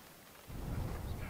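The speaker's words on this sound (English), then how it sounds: "Just in time, because it's starting to rain." Rain begins to fall outdoors at an off-grid home site: a sudden, steady broadband rush with low rumble sets in after a quiet moment and holds evenly to the end.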